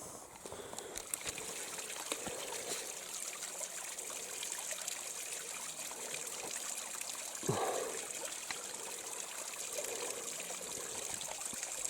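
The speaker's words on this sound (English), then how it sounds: "Find good running water. It's coming right out of the rock" Running water trickles steadily out of a rock at a spring in the Colorado backcountry during an elk bowhunt. The flow is a constant close burble, with one brief louder splash partway through and no voices.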